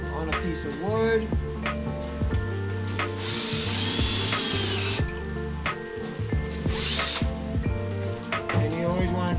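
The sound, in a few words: power drill drilling a hole on wood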